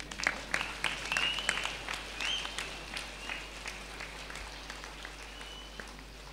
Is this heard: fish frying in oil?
no